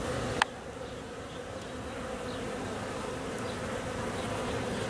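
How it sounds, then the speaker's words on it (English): Honeybees swarming a busy hive entrance in a backyard garden produce a dense, continuous drone of buzzing wings, close and steady, with a single faint tap near the start. "There's a good number of bees at that entrance."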